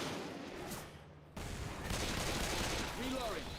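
Gunfire at armored zombies in Left 4 Dead 2, a steady dense rattle of automatic shots after a brief lull, fairly faint and continuous, with a voice speaking partway through.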